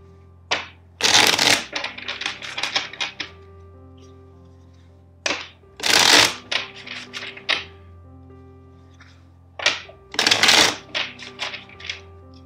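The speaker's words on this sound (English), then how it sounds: "First, let's shuffle the deck four times." Three bursts of tarot cards being riffle-shuffled, each a rapid flutter followed by a few soft taps and thuds as the deck is squared, with quiet pauses between.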